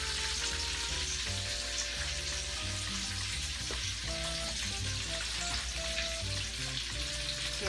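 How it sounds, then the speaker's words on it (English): Shrimp sizzling in a hot pan for shrimp fried rice, a steady crackling fry with faint stirring, under quiet background music and no talk. "I'm going to put the shrimp in."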